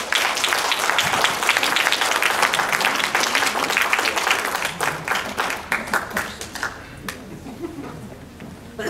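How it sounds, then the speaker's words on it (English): Loud, sustained applause from a crowd, dense clapping that thins out toward the end as individual claps become distinct. "Please, a round of applause."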